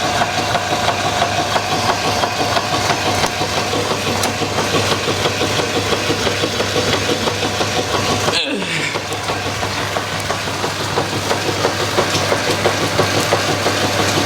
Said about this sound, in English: This is the motor. It sounds really quiet.